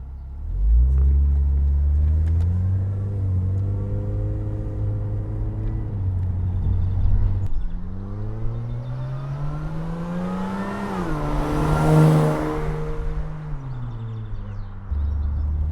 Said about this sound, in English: today we're driving an Aston Martin DB7 Volante.